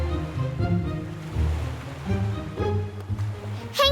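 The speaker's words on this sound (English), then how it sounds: "He's angry. That's why the waves are so wild." Wild, rolling sea waves in an animated cartoon, stirred up by an angry sea king, surge and wash continuously under a bed of musical tones, swelling in places and staying loud throughout.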